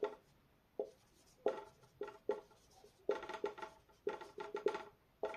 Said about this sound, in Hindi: लिखेंगे अर्थ एटमॉस्फेयर